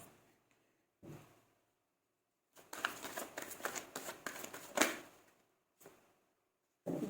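Tarot cards handled in short bursts: a brief flick, then a longer run of quick riffling shuffle sounds, followed by single soft card slides with silent gaps between.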